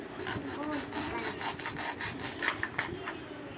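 Toy knife cutting through toy food, a close scraping, rasping stroke repeated with small clicks and taps, steady and fairly quiet.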